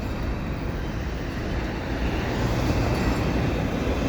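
A CP freight train with stacked containers and mixed cars rolls past in the evening, a steady, loud, broadband rumble and rail roar that holds constant throughout without breaks, no voices heard.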